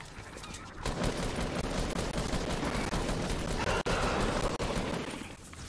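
Rapid, continuous gunfire from a shooter video game, a dense stream of shots with a couple of brief sharp cracks standing out, steady and loud throughout with no talk.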